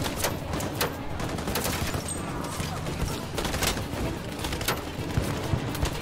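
Bursts of covering gunfire in the Detroit: Become Human video game, rapid repeated shots sounding loud and sharp over a continuous noisy battle backdrop.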